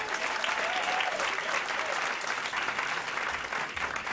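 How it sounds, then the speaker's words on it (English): Audience applause at a live poetry event welcoming a 12-year-old poet to the stage: steady, dense clapping that fills the room throughout at an even level, with a faint voice briefly audible early on. "A big round of applause for now 12-year-old Aiden Amadi."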